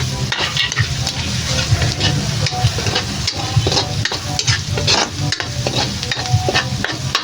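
Garlic sizzles in melted butter while a utensil scrapes and stirs it around the pan in quick, repeated strokes, the frying loud and close with no talking.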